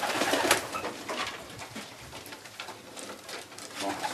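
Racing pigeons coo repeatedly close by in a loft, soft throaty calls overlapping with fluttering and shuffling, and no talking.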